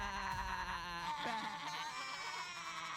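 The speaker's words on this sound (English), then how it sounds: "You goats are real." Goats bleat in a wavering, drawn-out cry that stays fairly steady and faint throughout, with no one talking over it.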